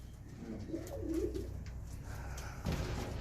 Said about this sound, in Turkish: Evet arkadaşlar burada böyle bir güvercin üretimhanesi var diyelim.